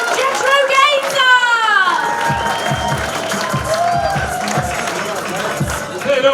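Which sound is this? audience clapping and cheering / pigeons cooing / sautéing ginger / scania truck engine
audience clapping and cheering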